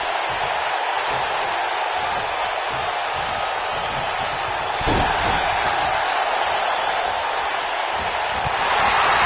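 Crowd at a wrestling arena during a tag team championship match, a sustained roar of cheering and noise throughout with a heavy thud partway in, distant and steady, with a voice over it.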